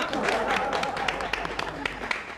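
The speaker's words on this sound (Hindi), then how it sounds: "तालियां" A crowd claps in scattered applause, a dense patter of hands with a few sharper individual claps standing out as it thins toward the end.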